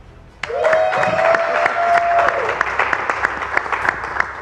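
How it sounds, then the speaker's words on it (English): A convention congregation applauds, a dense wash of claps rising suddenly and sustaining steadily with sharp individual claps standing out; a brief tonal whistle or feedback tone sounds near the start. "That's another applause for me."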